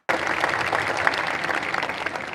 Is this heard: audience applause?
yes